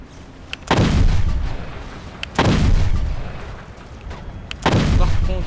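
Hand cannon gunfire in the video game Battlefield Heroes: three heavy booming shots spaced about two seconds apart, each with a long rumbling decay, loud and alone.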